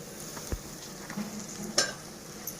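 Prawns fry in a pan with a soft, steady sizzle, punctuated by a few quiet scrapes and clicks of a utensil stirring them close by.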